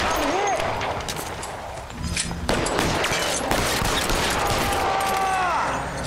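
Gunfire in the crime video game L.A. Noire, a burst of shots in the middle of the clip amid game sound effects, with someone talking over it at times.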